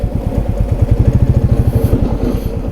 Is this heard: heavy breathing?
no